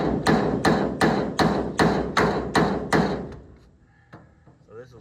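A Cross framing hammer strikes the metal body of a 1965 Ford F100 truck eight times in a steady rhythm, each blow a loud, close bang, then a couple of lighter taps follow.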